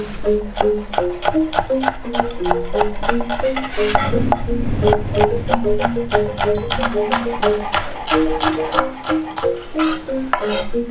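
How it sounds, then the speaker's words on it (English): Knife slicing small green chilies on a cutting board: quick, evenly spaced chopping taps repeat steadily throughout, with tonal music playing under them and a speaker's voice partly audible. "Next, I'm going to slice the chilies"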